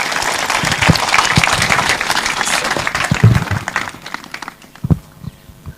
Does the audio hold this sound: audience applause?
yes